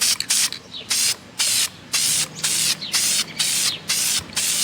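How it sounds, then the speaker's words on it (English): Short repeated bursts of an aerosol spray can coating a K-series car engine with base coat paint, about ten close hissing blasts in an uneven rhythm separated by brief pauses. "as soon as you spray it on, it just absorbs the paint"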